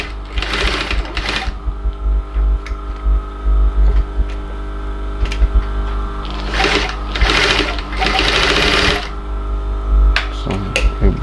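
An industrial sewing machine stitches a leather office handbag in short bursts of fast rhythmic clatter, loud and close, separated by pauses with a steady motor hum underneath.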